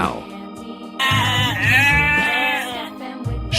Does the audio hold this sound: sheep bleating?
yes